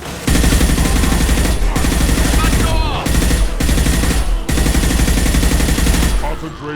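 Loud, rapid gunfire in the Mass Effect 2 video game, with dense, sustained bursts broken by a few short pauses during a firefight.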